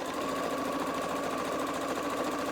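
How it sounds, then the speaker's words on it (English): A sewing machine runs steadily and loudly without pause, stitching along the raw edges of a fat-quarter fabric book cover with a dense, even mechanical whir throughout. "we're sewing along all 4 raw edges"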